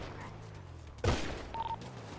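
Gunfire in the game GTA, heard as a short burst of shots midway through, with a voice talking around it.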